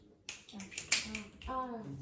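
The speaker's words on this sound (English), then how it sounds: "Snap your fingers." Fingers snap in a classroom, a few crisp, quick clicks with one sharp snap standing out near the middle, with faint voices murmuring underneath.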